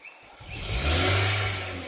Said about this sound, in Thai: เหยียบคันเร่ง